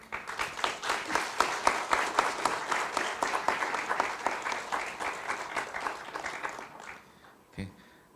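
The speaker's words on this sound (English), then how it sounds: "Please give applause." Audience applause at a joint scientific forum session, a dense, steady clapping crowd lasting about seven seconds before fading, followed by a brief isolated sound near the end.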